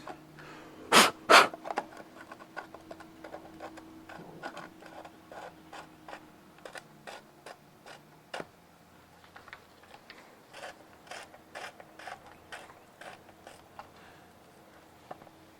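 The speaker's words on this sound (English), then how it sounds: "the light kind of just screws in" A Minn Kota Raptor anchor light is screwed into its mount on a boat, giving a string of small scraping and clicking turns, close and fairly quiet, with a couple of sharper knocks near the start.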